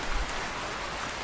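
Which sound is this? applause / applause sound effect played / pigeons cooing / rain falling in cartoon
rain falling in cartoon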